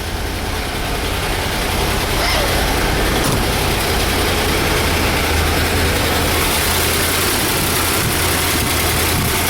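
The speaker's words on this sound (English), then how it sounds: "Now these are solid lifter, mechanical adjusted engines" A cold 1964 Corvette 365hp solid-lifter, mechanically adjusted engine idles steadily, close and loud, with a constant low rumble and ticking valvetrain, no voices.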